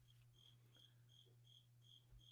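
A cricket chirps in short, evenly spaced pulses against a steady low hum, faint and fairly distant, ending in a single sharp click, with no talk.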